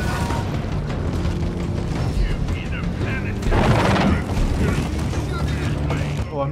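Gunfire in the video game Deep Rock Galactic, with a dense mechanical clatter of shots and booms layered over rumbling noise, growing louder midway through, while voices talk over the action.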